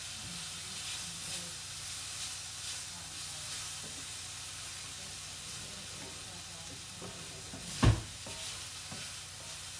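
Beef, onions and mushrooms sautéing in sesame oil in a pan, giving a steady, fairly quiet sizzle with one brief utensil clank near the end.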